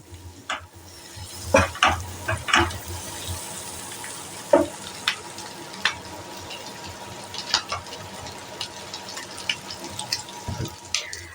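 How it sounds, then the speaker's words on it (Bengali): Boiled, salted potatoes fry gently over a medium-low flame for butter garlic potatoes, a soft, low sizzle punctuated by scattered clicks and scraping taps from stirring. "এবার আমি মিডিয়াম টু লো ফ্লেম করে এবার আলুগুলোকে আমি ভাজবো"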